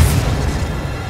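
A Confringo blasting spell detonates in Hogwarts Legacy, a loud, close, low booming explosion that rumbles briefly and stays heavy throughout, with no voices.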